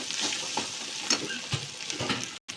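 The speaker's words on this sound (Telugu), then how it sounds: "వేగాక కార్జం ముక్కలు వేయాలి బాగా ఫ్రై చేసుకోవాలి" Chicken liver pieces fry with turmeric in a pan, giving a steady close sizzle with scattered stirring clicks and scrapes, broken by a brief silent gap near the end.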